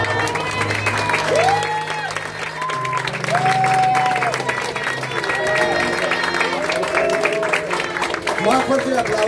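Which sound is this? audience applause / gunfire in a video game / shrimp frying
audience applause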